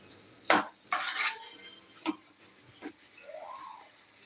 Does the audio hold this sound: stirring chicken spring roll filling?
yes